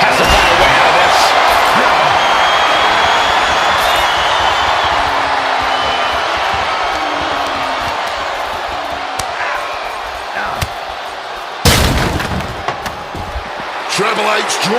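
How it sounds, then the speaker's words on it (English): A crowd roars at a Hell in a Cell wrestling match in the WWE 2K26 video game, with a loud, sustained arena din that slowly eases, then a sharp slam or crash near the end. "Triple H drawing a big reaction from the crowd"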